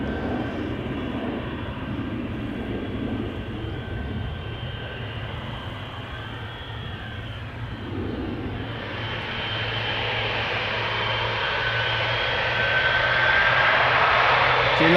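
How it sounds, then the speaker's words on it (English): A KLM Boeing 777-200 jet, twenty years old, spools up for takeoff on Schiphol's Polderbaan runway, its broad engine roar building steadily and growing louder toward the end, with no voices over it. "KLM flight 733 going to Curacao, already spooling up"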